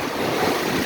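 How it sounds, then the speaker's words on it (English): Ocean surf near a luxury residential area, a steady broadband wash of waves mixed with wind buffeting the microphone, with no distinct breaks, continuous throughout. "The ocean coming here"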